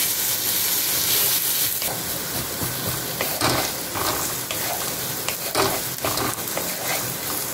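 Chopped onion and garlic sizzle in hot oil for a green bean (borboti) mash, a loud, steady, close frying hiss with stirring scrapes and no voices.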